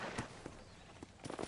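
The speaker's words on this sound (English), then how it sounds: "we're gonna hitch the horse right here" Hooves clip-clop as a horse slows to be hitched in the video game Red Dead Redemption, a few soft, irregular thuds over a low ambient bed, closing with a quicker cluster of steps.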